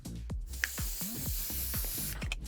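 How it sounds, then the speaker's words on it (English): Dry texture hair spray hisses from an aerosol can in a steady, close continuous spray, with faint clicks and handling sounds at the start and end and no talking. "I'm gonna finish it with the dry texture spray."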